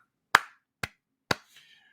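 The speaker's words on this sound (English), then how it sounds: "so slow clap" Three slow, isolated hand claps ring out alone and close, evenly spaced about half a second apart.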